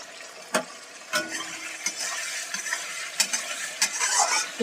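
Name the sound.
stirring tomatoes with salt and chilli in a pan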